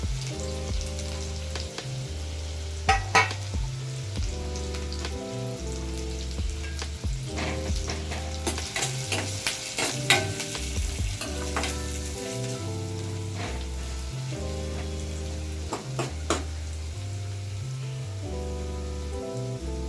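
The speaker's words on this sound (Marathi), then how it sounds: "मिरची आपली तळून झालेली आहे ह्यात आता आपण टाकतो आहे कांदा" Chopped onion fries in hot oil with already-fried small chillies, a steady dense sizzle that goes on for about twenty seconds, broken by the clatter and scrape of the pan being stirred every few seconds.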